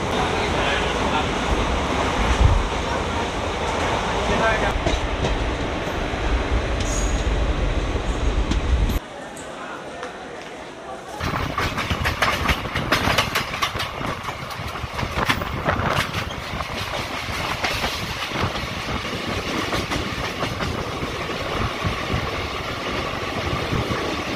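Santragachi to Digha summer special train running, a steady rattling rumble of wheels and carriages heard from on board, with a brief quieter stretch before the clatter returns louder and busier.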